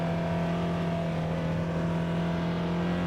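A car rolls out through the front gate of Mulberry Mountain RV Park in the Arkansas Ozarks, its engine a steady low hum with constant road noise and no change in pace, heard from inside the vehicle.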